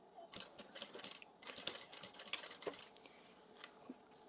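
A sewing machine runs in short bursts of rapid, rhythmic clattering stitches while a curved seam is sewn with a piping foot, pausing briefly between runs; the sound is close and fairly quiet.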